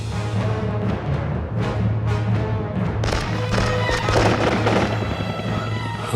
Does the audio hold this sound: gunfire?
yes